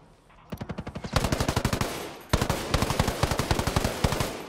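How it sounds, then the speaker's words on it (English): Rapid automatic gunfire from a shootout in Ghost Recon: Breakpoint, loud bursts of evenly spaced shots that pause briefly and then resume in a second sustained volley. "Okay, it's a shootout."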